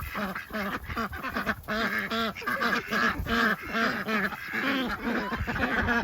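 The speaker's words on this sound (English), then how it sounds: "The ducks are happy with their new straw." A flock of homestead ducks on fresh straw quacks loudly and continuously, overlapping honking calls crowding close together for several seconds.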